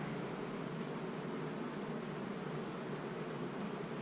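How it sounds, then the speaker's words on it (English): Honeybees swarm over the top of a hive feeder, a dense, continuous buzz that holds steady and close throughout, with no voices. "And now we got bees on the top of the feeder, which is not where you want bees."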